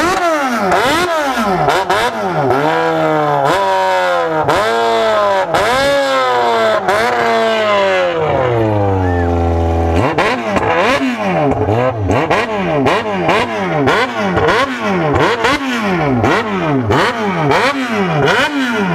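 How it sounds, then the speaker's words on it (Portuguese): A motorcycle engine revs hard and close, in repeated rising and falling bursts, with one long sustained rev that drops off before the quick revving resumes. "vou pegar a chave da minha moto aqui."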